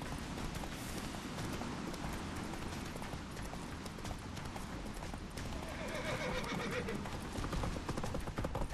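Geralt's horse Roach in Witcher 3 gallops with steady, rapid clip-clop hoofbeats and whinnies loudly, over busy combat noise with no clear talk.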